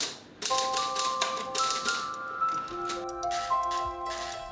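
An old manual typewriter in a Quiapo repair shop, keys striking in quick irregular bursts with a sustained ringing tone underneath, close and clear with no voices.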